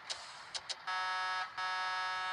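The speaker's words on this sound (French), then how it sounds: "le son du klaxon, il change" A truck horn sounds in the Truckers of Europe 3 driving game: a few short buzzy honks, then two long sustained blasts, loud and close over a low engine hum, with no talking.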